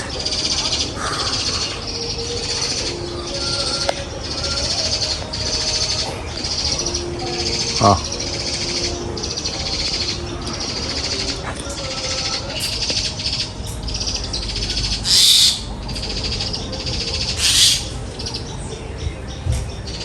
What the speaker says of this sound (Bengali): কি সুন্দর পাখির কিচিমিচির আওয়াজ